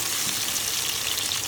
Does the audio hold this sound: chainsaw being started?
no